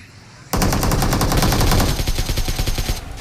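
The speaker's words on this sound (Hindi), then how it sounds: "मैंने एक प्री फायर दिया उस बंदे को डराने के लिए" Automatic gunfire in PUBG Mobile: after a brief quiet moment, a loud, rapid burst of machine-gun shots starts abruptly and runs for about two and a half seconds in a tight rhythm, then cuts off, with no talk over it.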